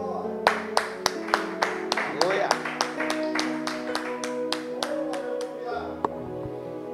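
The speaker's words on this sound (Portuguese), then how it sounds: "Vamos aplaudir ao nosso Deus." A church congregation claps together in a steady, even rhythm of about two claps per second, with music sustaining underneath and a voice briefly calling out over it.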